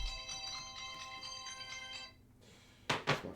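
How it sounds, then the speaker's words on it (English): A mobile phone ringtone plays a bright repeating melodic pattern for about two seconds, then stops, followed by two loud broadband bumps or knocks. "That's my phone going off."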